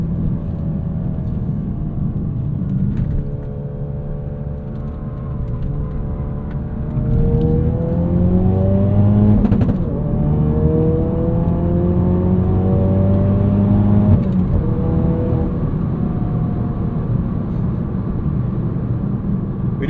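A 2016 Ford Focus RS, a loud 350 hp hot hatch, accelerating through the gears, its engine note rising in pitch, dropping at each shift and climbing again, heard from inside over a steady droning rumble.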